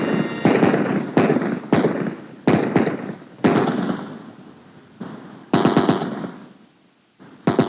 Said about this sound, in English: The M60 machine gun.